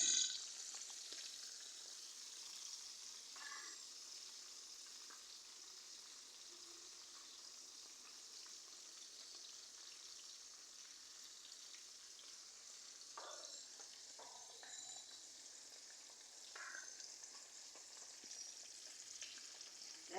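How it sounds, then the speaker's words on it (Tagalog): Steady crackling sizzle of fish frying in hot oil, close and continuous, with occasional louder pops and spatters. "prito na isda"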